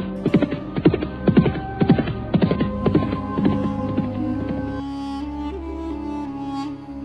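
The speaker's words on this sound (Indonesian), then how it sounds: "kuda mereka sudah melaju berkejaran di bawah sinar lembayung senja yang indah" Horses galloping as a radio drama sound effect, a chase at sunset: rapid, rhythmic clip-clop hoofbeats, loud and close, that fade into a lingering low hum and tonal bed toward the end.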